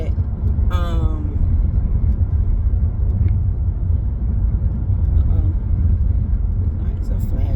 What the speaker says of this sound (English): And we're rolling into traffic.